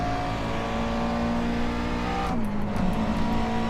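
McLaren race car in iRacing accelerating at Sebring, a loud, close engine note that drops with a gear change and then climbs again steadily.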